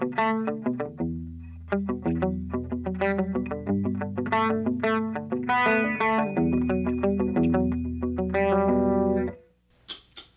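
Electric guitar through an Effects Bakery Bagel overdrive pedal with a chorus effect, playing a melodic line of plucked notes over sustained chords, lightly driven and shimmering, loud and alone, ending with a short pause and a brief string noise.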